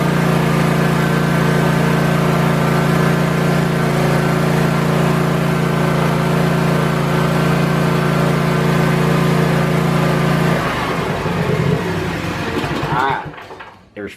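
Small Kawasaki engine held at wide open throttle during a charging-system test, a loud, steady drone that holds for about ten seconds before dropping off and sputtering to a stop near the end.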